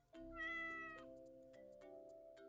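A cat meows in the puzzle video game While True: Learn, a single clear, drawn-out tonal cry with a rising-then-falling pitch, followed by softer lingering electronic tones in the game's background.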